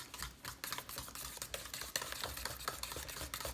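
Spoon or fork stirring a banana bread mixture with clumpy brown sugar in a bowl, quick close scraping clicks and taps in an irregular rhythm, fairly soft and alone.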